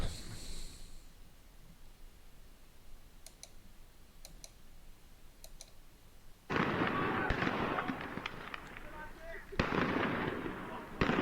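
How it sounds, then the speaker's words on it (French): Fireworks and firework mortars go off during a night riot in Argenteuil, with sharp distant cracks early on followed by dense, loud crackling bursts and pops, while people talk nearby. "il marche au milieu des feux d'artifice"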